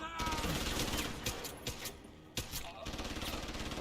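Gunfire in the video game Deus Ex: Human Revolution sounds as fast, fairly faint volleys of shots, with a few sharper single cracks, under ongoing talk.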